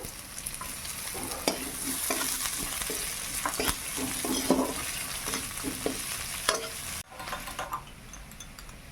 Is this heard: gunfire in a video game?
no